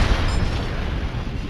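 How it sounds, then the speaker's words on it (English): A loud, close gunshot from the video game Fallout New Vegas, played in Tale of Two Wastelands during the Big Empty. A heavy boom hits at the start, then a rumbling tail fades over a second. "I need to shoot his limbs."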